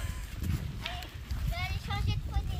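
A pony gallops in a riding session, its hoofbeats a steady, fairly close clip-clop with voices and calls heard over it.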